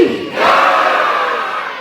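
A large crowd at a temple consecration festival roars back a chant in unison, a loud sustained collective shout that swells and holds.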